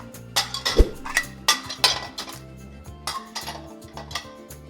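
Ceramic plates clatter and clink as they are set one after another into a dishwasher's lower rack, with irregular knocks and rattles close by.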